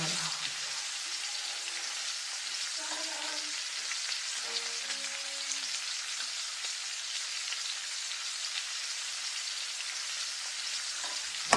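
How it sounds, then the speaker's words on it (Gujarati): Tuvar lilva kachori deep-fry in oil over a low flame, with an even, continuous fine bubbling sizzle at moderate level and a brief clatter at the end. "હવે એમાં આપણે કચોરી નાખીશું તળવા માટે"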